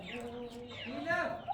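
A lame hen clucks close by, a few short throaty clucks and warbling calls in quick succession, with someone speaking around them.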